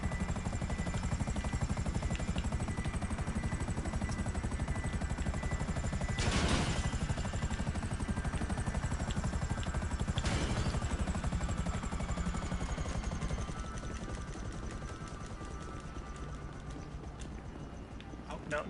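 Aircraft engine droning steadily in GTA, a constant loud mechanical hum with rhythmic beating, briefly punctuated by two sharp bursts, then easing slightly toward the end.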